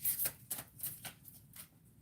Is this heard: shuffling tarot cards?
yes